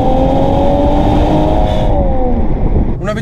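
A Mercedes-AMG GT 4-door coupé engine pulls loudly and steadily under load, its tone climbing slightly through the gears before easing off near the end.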